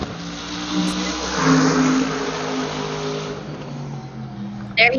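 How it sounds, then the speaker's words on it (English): A race car's engine drones and revs in the distance at Buttonwillow Raceway, swelling as it accelerates, with a voice talking over it. "I can hear Ferris coming out the backside."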